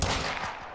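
A single gunshot fired in a video game, loud and close, with a short rumbling tail filling the brief moment.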